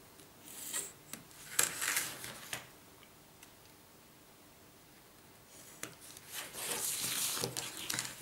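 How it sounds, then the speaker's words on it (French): Scissors cut around paper for a rotating advent calendar in short bursts of crisp snipping and rubbing, separated by a quiet pause, close and fairly faint. "Et là, on va découper tout autour."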